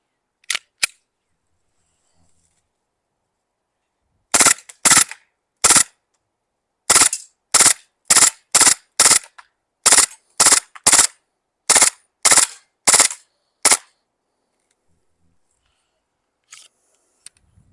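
A Glock 18c airsoft pistol firing full auto: sharp, loud, close bursts of rapid snapping shots in several strings separated by silent pauses, with a couple of isolated clicks at the start and end, no talking.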